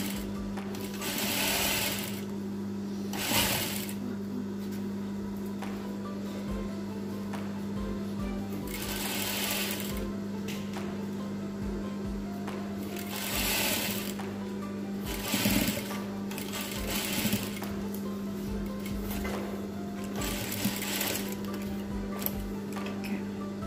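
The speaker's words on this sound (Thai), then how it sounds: "เย็บวนให้รอบเลยค่ะฝั่งนี้เราก็เย็บติดกันนะคะ" Sewing machine stitching around a homemade fabric face mask, a steady motor hum broken by several louder bursts of fast stitching, close and without talk.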